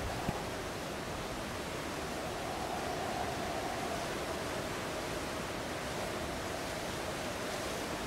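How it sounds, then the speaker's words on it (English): Ocean waves at night in a NightCry video game cutscene, a steady broadband wash of surf rolling continuously without a break and no voices over it. "The ocean at night seems to suck you in, don't you think, Rooney?"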